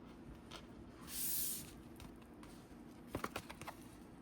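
Car air fresheners being sprayed at a craft table, one soft sustained hiss of about half a second standing out above a quiet room, followed later by a few light taps and clicks.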